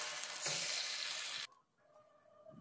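Rice-flour chitoi pitha batter hits an oiled pan with a loud, close sizzle that lasts about a second and a half, then cuts off abruptly to near quiet with a few faint clinks.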